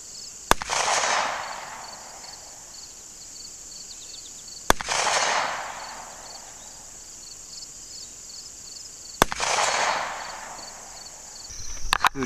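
Rifle fired at a 65-yard target: three sharp cracks spaced roughly four seconds apart, each followed by a rolling echo, loud and close over steady outdoor insect hiss.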